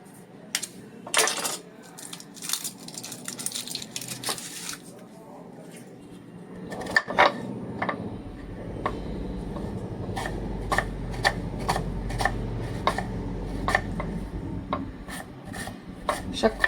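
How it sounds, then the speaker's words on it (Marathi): An onion being finely chopped with a knife on a board while making quick poha, a fast run of crisp regular taps building after a quieter start, close and clear with light kitchen background. "मी हा एक कांदा घेतलाय, तो बारीक चिरून घेते"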